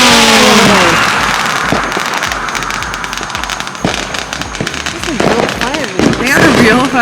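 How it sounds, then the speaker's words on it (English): Fireworks pop and crackle in a string of sharp bursts, some close and loud, while people talk and exclaim over them. "They are real fireworks."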